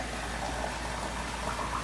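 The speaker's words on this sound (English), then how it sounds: "I start by topping this off, or watering it back down" Cold water pours steadily into a kombucha homebrew, giving a continuous close rushing, bubbling splash with no pauses and no voices.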